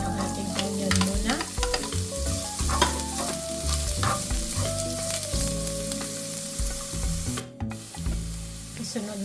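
Chopped onion dropped into hot cooking oil for a pork menudo, giving a steady close sizzle with stirring and scraping throughout, no talking.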